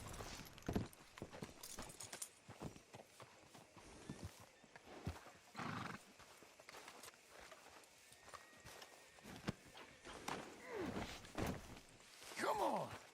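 Horse hooves clip-clop steadily on hard ground at moderate distance in the video game Red Dead Redemption 2, with occasional snorts and a whinny, against quiet ambient background.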